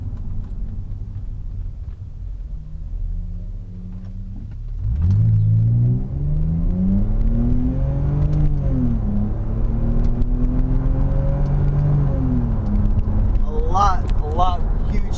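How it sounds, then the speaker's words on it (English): A BMW E60 525 automatic in sport mode pulls away from a stop sign, engine rumbling at idle then rising in loud revving pitch through gear changes, heard from inside the car, with a voice speaking over it. "Let's have a good little takeoff right here at the stop sign."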